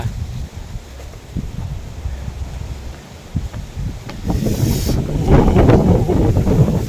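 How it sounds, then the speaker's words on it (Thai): Strong wind blows at a riverside resort at night, roaring and buffeting the microphone in loud rumbling gusts that build and grow heavier toward the end, with no talking. "สัมผัส เสียงลมนะครับ ลมแรงมาก"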